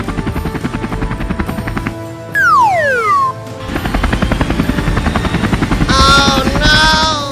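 Cartoon helicopter flying, a rapid rotor chop pulsing steadily and loudly, broken by a falling whistle effect midway and brief high electronic tones near the end.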